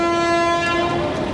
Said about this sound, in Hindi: अभी आके ये रुके ही हैं और डिपार्चर विसल हो गया